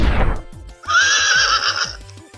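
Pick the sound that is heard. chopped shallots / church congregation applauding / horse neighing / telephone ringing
horse neighing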